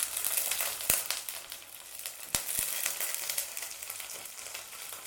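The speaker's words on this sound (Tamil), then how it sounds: "ஒரு 2 நிமிஷம் உருளைக்கிழங்கு வந்து எண்ணெயிலே நல்லா வதங்கட்டும்." Diced, peeled potato pieces frying in hot oil with sautéed onions for a Kerala-style mutton stew, a steady close sizzle and crackle throughout with a few sharp pops and stirring clicks.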